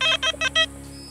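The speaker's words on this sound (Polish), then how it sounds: "2 sygnały po siebie, jakiś mosiężny element" A metal detector in a field gives four quick, bright electronic beeps in a rapid rhythm, clear and close, followed by a faint lingering tone.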